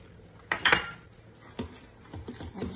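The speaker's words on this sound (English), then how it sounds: "And start stirring." A utensil clinks and scrapes against a pan while cheese slices are stirred into thickened milk, with a few sharp metallic taps and softer scraping in between.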